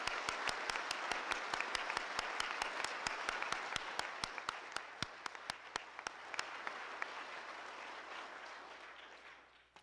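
Congregation clapping together at a memorial service celebrating a life, a dense burst of many hands fading gradually over ten seconds, with a few louder individual claps standing out near the end and no talk.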